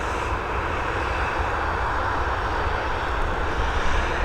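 A twelve-year-old Boeing 737 departing for Amsterdam from Dublin gives off a steady, fairly loud engine roar with a deep rumble beneath it, unbroken and without speech.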